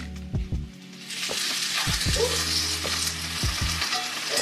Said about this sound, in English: That's sizzle.